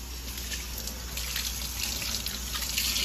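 Tap water runs steadily over freshly blanched, very hot grape leaves set aside to cool under the stream, a close, continuous hiss and splash at the sink with no talking.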